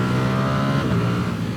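A Ducati Streetfighter V4S engine runs at high revs on the road, a steady, dense mechanical roar held throughout at close range.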